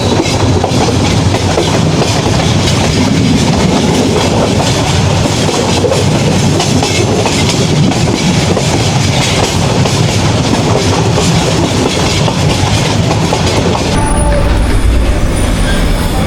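The Jayantika Express runs out of Sylhet, a loud continuous roar of wheels and carriage rumble with rhythmic clatter on the rails and a change in tone near the end.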